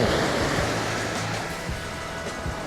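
Calm sea waves washing steadily onto Songjeong Beach in Gangneung at dawn, a continuous soft surf rush with light wind noise and no voices.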